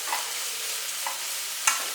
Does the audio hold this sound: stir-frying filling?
yes